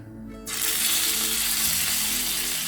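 Chicken pieces dropped into hot oil in a heated pan break into a loud, steady sizzle that bursts on abruptly and holds close and strong.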